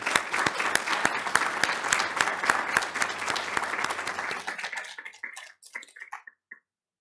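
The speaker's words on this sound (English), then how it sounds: "About a round of applause." Applause from the audience at a transportation research showcase plenary, a dense burst of many hands clapping that thins out and fades to silence near the end.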